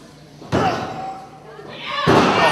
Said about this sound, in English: just slammed Aleki's sexy face into the mat